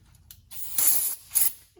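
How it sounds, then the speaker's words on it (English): Brake cleaner sprayed from an aerosol can onto a paper towel during a brake job, two short loud hissing bursts with quiet gaps between them. "get some brake cleaner"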